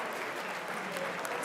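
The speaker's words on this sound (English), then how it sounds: "early applause." Early applause from the crowd at a basketball league MVP and awards night, a steady, even wash of clapping across the whole short stretch, moderately loud with no voices standing out.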